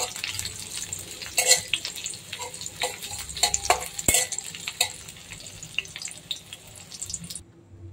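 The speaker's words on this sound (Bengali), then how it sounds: "পেঁয়াজ রসুন ভেজে নিয়ে আসি" Onion and garlic fry in a pan with a crackling sizzle and irregular utensil clatter and scraping, close by, before the sound cuts off abruptly into near silence at the very end.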